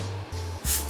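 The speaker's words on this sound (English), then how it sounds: "I'm just gonna use some Tresemme hairspray" Tresemme hairspray from a small bottle mists onto hair in three short hissing bursts close by, the last one louder.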